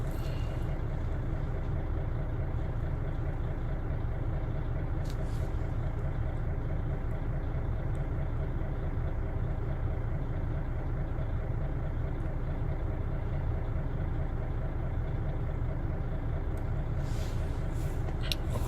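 A tractor engine idles steadily, a low continuous rumble holding even at a moderate distance throughout, with a couple of brief higher hisses and no talking.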